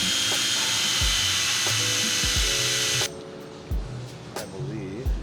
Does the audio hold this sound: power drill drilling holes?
yes